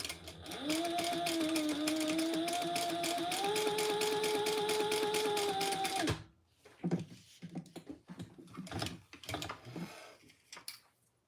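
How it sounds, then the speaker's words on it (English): A sewing machine chain-stitches steadily for about six seconds with a fast, even mechanical whir, then stops, leaving softer scattered clicks and handling noises. "I'm going to do some chain stitching."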